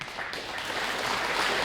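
A fire hall opening ceremony audience applauds a firefighter, a dense, steady wash of many hands clapping together for a brief moment with no voices over it.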